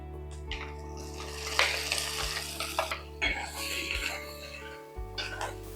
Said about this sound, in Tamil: நம்ம இந்த சட்னி எடுத்து இதில் ஊற்றிடலாம்